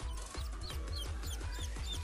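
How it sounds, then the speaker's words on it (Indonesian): Free-range village chickens cluck in a steady run of short, close calls over a dense farmyard background, with no talking. "Jenis ayam kampung."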